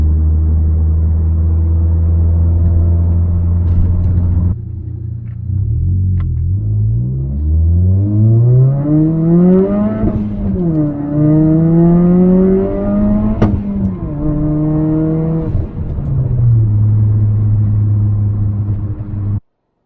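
A turbocharged Toyota Corolla drives past as a loud, continuous engine rumble, revving up and down through several gear changes with rising and falling pitch, close and steady throughout with no talking.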